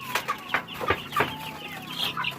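A backyard chicken clucks in a series of short, sharp calls close by, several bursts spaced across a couple of seconds with no talking over them.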